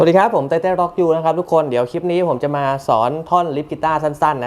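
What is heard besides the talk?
No everyday noises stand out.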